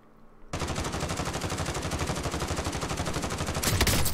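Automatic gunfire in the Warzone video game, a rapid continuous stream of shots that starts abruptly and holds steady for several seconds, loud and close, with a heavier burst near the end.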